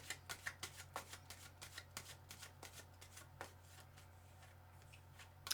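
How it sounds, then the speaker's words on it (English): Quiet, close shuffling of tarot cards comes as a rapid run of soft papery riffles that thin out midway, ending in a louder final tap, all over a low constant hum without speech. "Another shuffle."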